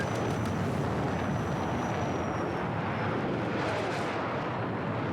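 Attack jet in Battlefield 6 on full boost and climbing, a loud steady roar of engine and rushing air filling the whole stretch without a break, with no talking.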